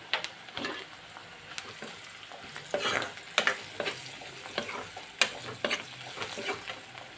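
Lemon pickle ingredients fry and sizzle in hot oil with a steady crackle, punctuated by sharp pops and the scrape of stirring, close and fairly quiet.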